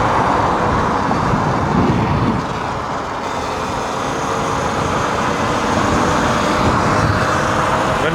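A car drives along the road behind a Surron electric dirt bike rider, a dense, loud traffic rumble and tyre roar blended with wind, continuous and close throughout.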